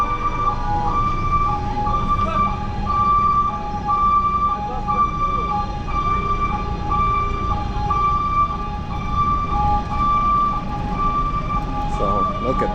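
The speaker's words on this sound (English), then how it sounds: "This is the ambulance, and you don't have a cross, you have a Star of David on the ambulance" An ambulance siren carrying a Star of David sounds on a street on the Mount of Olives, its steady wailing tones running throughout over traffic noise, fairly close.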